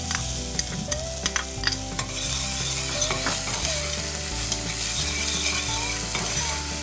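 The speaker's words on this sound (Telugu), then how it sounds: "సో నూనె వేడైంది కదా, ఇప్పుడు ఇందులో సన్నగా తరిగి పెట్టుకున్న ఉల్లిపాయ ముక్కలు." Finely chopped onions tossed into hot oil in a pan, a loud close sizzle that swells after a few sharp clinks, with stirring scrapes and a faint tonal hum underneath.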